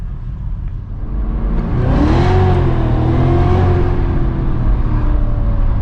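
A 640-horsepower Cadillac CTS-V with supercharged boost and badly worn tires revs hard during donuts, its engine note climbing and sweeping in pitch over a constant loud roar that stays close throughout.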